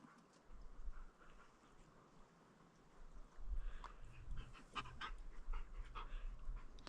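Trained dogs at a rainy, muddy mountain-bike camp in Utah pant in quick, breathy bursts close by, over a low rumble of outdoor noise.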